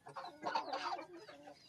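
A chicken clucks at a rural home in the Sundarbans, a short, faint run of throaty clucks with a brief pause before a softer final note.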